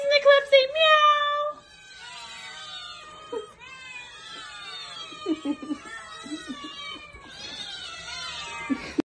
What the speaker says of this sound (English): Can all the kitties in the club say meow?